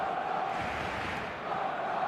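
Big stadium crowd roaring and chanting in an eFootball match, a dense continuous wash of massed voices with no pauses.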